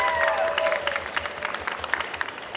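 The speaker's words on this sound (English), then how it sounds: "Give a round of applause for these guys." Audience applause at an anime convention panel greeting voice actors, a moderate crowd clapping steadily with scattered sharper claps, slightly distant and fairly quiet.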